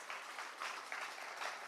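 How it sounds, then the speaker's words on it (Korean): A crowd applauds to welcome union workers at the launch of a memorial association for an anti-Japanese revolutionary and labor activist. The clapping is steady and dense but quiet and distant, a continuous patter of many hands with no speech. "모두 반갑다고 힘차게 박수로 맞이하겠습니다"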